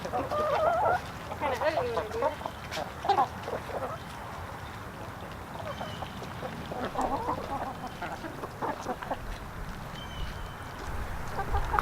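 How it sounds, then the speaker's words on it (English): Egg-laying chickens cluck and squawk intermittently as they are herded to fresh grass in a garden, moderately distant calls scattered among outdoor ambience with a voice speaking at times. "Keep on going, chicken."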